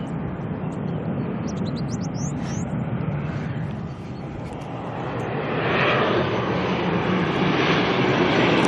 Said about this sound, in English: ATR coming in here from New Plymouth, NZ5032